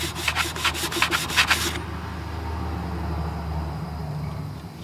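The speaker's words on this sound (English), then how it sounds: "This is a fresh piece of 600 grit sandpaper." Repeated rubbing strokes of fresh 600 grit sandpaper, about eight quick back-and-forth passes close up, cleaning the back side of a blade in a sharpening setup, followed by a low steady background hum.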